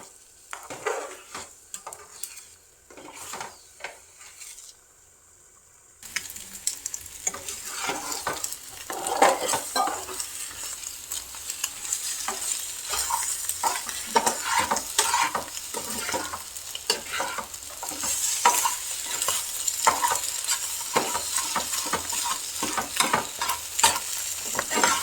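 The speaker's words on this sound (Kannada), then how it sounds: "ಇದನ್ನೀಗ ಚೆನ್ನಾಗಿ ಫ್ರೈ ಮಾಡ್ಕೊಳ್ಬೇಕು." Chilli powder frying in a pan with steady sizzle and repeated stirring scrapes, quiet for the first few seconds, then continuous and moderately loud with busy utensil clatter, no talking.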